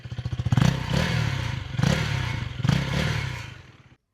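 A KTM Duke 250 Gen 3 motorcycle is blipped from idle in three quick revs, each a loud rising exhaust roar that falls back, heard close with no talking, ending in silence.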